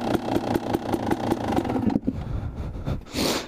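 A Honda CR 250 dirt bike engine idles with the choke on while warming up, a steady close putter with rapid regular firing pulses, a brief dip near the middle, then a slight rise in revs at the end.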